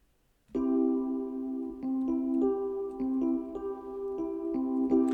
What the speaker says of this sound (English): go to instruments, and choose out a keyboard that I like